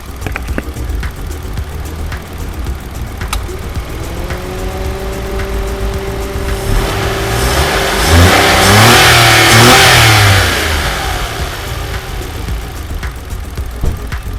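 A 2017 Mitsubishi Mirage 1.2 GLS with a 1,200 cc engine idles, then revs up under acceleration, the pitch climbing to a loud peak before falling back to idle, heard close with no talking.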